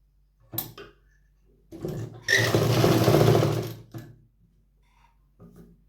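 A sewing machine running a straight seam along a folded salwar hem, a close, steady whirring burst of about two seconds after brief starts, stopping abruptly.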